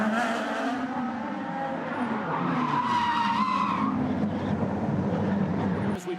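A race car skids off the track with a sustained squealing, scraping tire screech and engine roar lasting several seconds, loud and continuous, with a commentator's voice talking over it.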